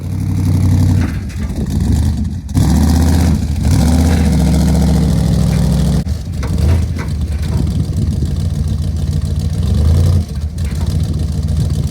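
A race car's engine runs loudly as it is driven onto a 1974 Ford F350 ramp truck, with deep idling rumble, brief revs and dips, and metallic clunks from the ramp as it loads, close by.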